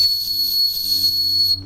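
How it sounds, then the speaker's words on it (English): An Alaskan Eskimo whistle carved from walrus tusk sounds one steady, shrill, sustained blast that holds for nearly two seconds before cutting off. "they blow their whistle"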